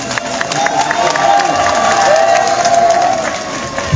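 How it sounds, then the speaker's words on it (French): A crowd at an inauguration ceremony in Guelen, Mamou, Guinea, applauds and cheers: sustained clapping mixed with shouts, whistles and high calls, loud and continuous, with voices mixed in. "je demande d'applaudir une fois encore"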